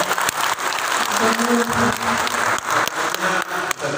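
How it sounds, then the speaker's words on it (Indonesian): Audience at a university doctoral promotion exam in Tulungagung, East Java, breaking into lively applause, a dense burst of many hands with sharp individual claps standing out and faint voices mixed in. "Tepuk tangan untuk Bu Rosida"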